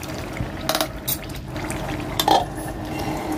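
A lid clinks onto a cooking pot of beef curry amid a few metallic clatters and soft liquid sounds, short close knocks over a low kitchen background.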